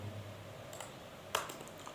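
A few scattered key presses on a computer keyboard while values are entered, quiet and close, with one sharper click standing out amid faint background hum.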